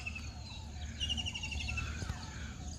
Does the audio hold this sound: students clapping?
no